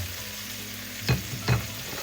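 Pork neck bones sizzle in a pan of sautéed ginger, onions, tomatoes and garlic. A steady close frying hiss runs throughout, with two louder bursts of spitting about half a second apart.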